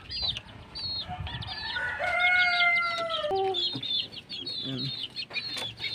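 Chicks and chickens on a farm make drawn-out calls and high peeps, a close, clear mix of cries with short pauses between, set against a soft background hum.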